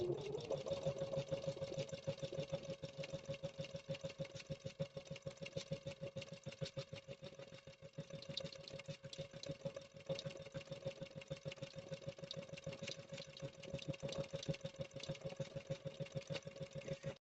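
A Janome sewing machine stitches free-standing lace or appliqué, its needle hammering in a fast, steady rhythm with a constant motor whine throughout, close and fairly loud with no talking.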